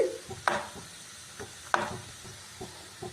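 Soft scraping as turmeric and spices are stirred into a frying pan, with faint sizzling, several spoon strokes spaced irregularly, close and fairly quiet.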